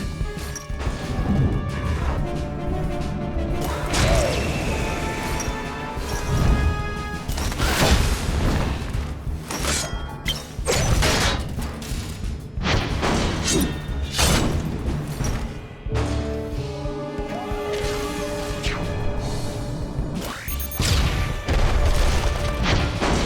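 Enemies bursting into candy in the Costume Quest video game, a series of loud smashing crashes and booms spread across the stretch amid game music and effects.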